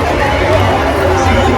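Thick Sunday crowd noise at the Mhasa fair: a constant loud babble of many people talking at once, close and enveloping, with no pauses.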